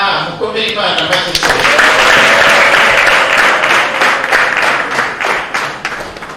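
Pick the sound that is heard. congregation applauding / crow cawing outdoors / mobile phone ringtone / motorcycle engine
congregation applauding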